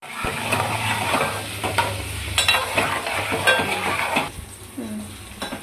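Eggs fry in a pan for an egg tomato curry, a steady close sizzle with occasional scrapes and clinks of a utensil against the pan, no voices.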